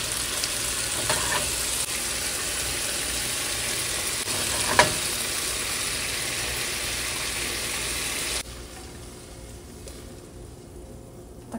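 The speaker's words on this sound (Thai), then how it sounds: "อันนี้นะคะก็คือผัดดอกกระเทียมของเรานะ" Garlic scapes stir-fried in a pan with a splash of water added produce a loud, continuous close sizzle with occasional stirring clinks, dropping abruptly to a quiet hush near the end; no talking.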